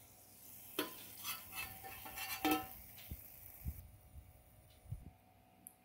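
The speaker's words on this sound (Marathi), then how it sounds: "तर एक एक करून आपण हे मेदूवडे तेलामध्ये सोडूया" Medu vada fry in hot oil, heard as bursts of bubbling sizzle and spatter along with soft clinks and knocks from a utensil, fading toward the end, moderately quiet and without talk.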